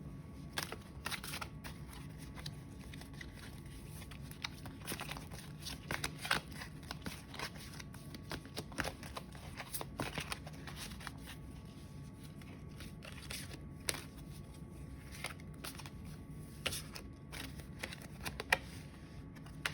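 Tarot cards being shuffled and drawn, a soft, continuous papery riffle broken by frequent sharp flicks and snaps, faint and close, with no talk over it.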